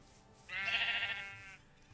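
A single sheep in the game Minecraft bleats once, a clear, fairly close cry lasting about a second, with no talk over it.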